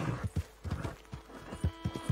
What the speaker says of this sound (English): Hey, animals. Horses.